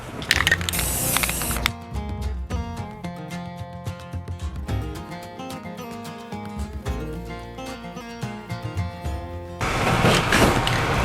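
A second coat of spray paint going onto an old ladder outdoors, a loud continuous hiss with steady bursts, starting and stopping in long passes.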